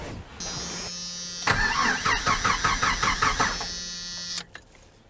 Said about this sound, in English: So let me crank the engine and it should gush.